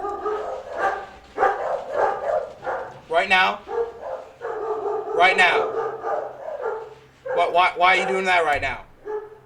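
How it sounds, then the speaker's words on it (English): A dog barks indoors in short, loud bursts mixed with yips, close by and repeated through the clip, with a person talking over and between the barks. "Why are you barking at my brother and his friend right now?"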